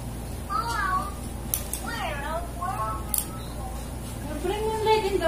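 A pet cat meows several times in rising and falling calls, fairly close, with faint background noise throughout.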